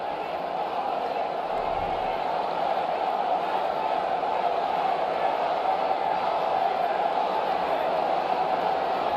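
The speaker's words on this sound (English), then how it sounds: "Outstanding crowd here at this stadium today. And they're very vocal right now." A stadium crowd in an India versus Pakistan cricket video game roars steadily and loudly without a break, forming a dense, unbroken wash of cheering.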